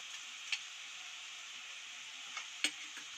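Ginger and garlic paste along with onion paste fry over full gas flame in a pan, giving a faint, steady sizzle with a couple of soft clicks of a spoon.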